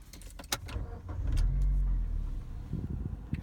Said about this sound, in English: So if I start the engine